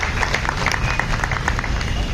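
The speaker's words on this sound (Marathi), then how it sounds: "टाळ्या वाजवून त्यांचं पहिले आपण अभिनंदन केलं पाहिजे" A short burst of audience applause greeting an award recipient at a Ramai memorial day gathering: dense, steady clapping from many hands, fairly close and loud, with no talk.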